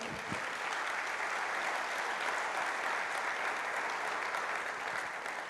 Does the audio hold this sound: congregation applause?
yes